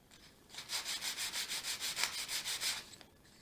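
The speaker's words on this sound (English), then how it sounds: "I'm using 220 on a sanding block." A 220-grit sanding block rubbed back and forth along a flat wood coaster, about a dozen even, rhythmic scratchy strokes close by and fairly quiet.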